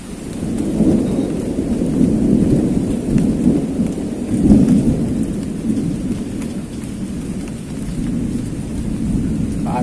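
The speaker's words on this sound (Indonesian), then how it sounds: "Hujan lebat rasanya." Heavy tropical downpour with rolling thunder, a dense, loud wash of rain rumbling continuously throughout while searching for fish after a big flood.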